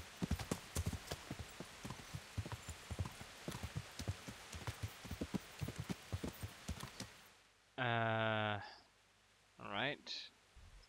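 Horse hooves clip-clopping in the video game Kingdom Come Deliverance, a quick steady run of crisp hoofbeats over soft rain-like hiss, then stopping as someone speaks briefly in two bursts.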